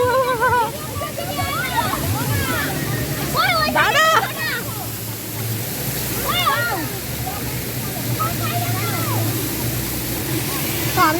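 Water sloshes and splashes steadily as people wade into it, a continuous rushing wash under lively, overlapping voices and shouts nearby.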